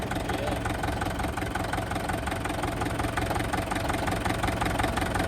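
A McCormick B450/B614 tractor's diesel engine ticks over at idle, a steady close rumble with a faint knocking beat, running alone without talk.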